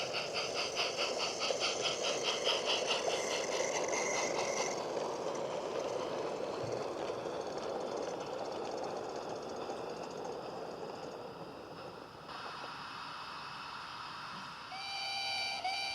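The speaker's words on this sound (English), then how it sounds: "a loaded up sand train storms in." A loaded sand train on the Peckforton Light Railway pulls into Beeston Castle station with a steady, rumbling engine drone and rolling wagons. Bright whistle-like tones ring over it early on, and another sharp tone sounds near the end.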